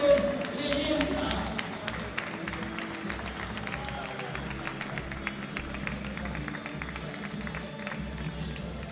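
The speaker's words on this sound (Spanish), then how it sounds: "Héctor, un aplauso." Audience applause with scattered claps and crowd noise at a national table football championship, steady and moderately loud throughout, with voices mixed in.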